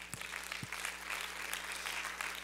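A church congregation applauds its elders, steady clapping from a large room that holds evenly throughout without a voice over it.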